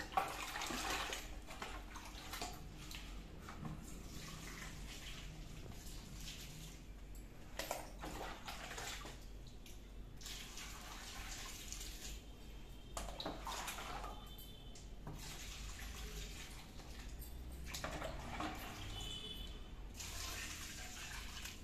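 Water poured onto freshly mixed soil in a potted fruiting plant in a kitchen garden, a steady close splashing and trickling that runs on for about twenty seconds with small surges and no talk.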